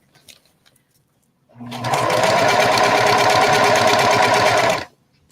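A sewing machine stitches over a pin on a bucket hat, starting after a moment of near silence and running in a loud, fast, steady whir for about three seconds before it stops abruptly.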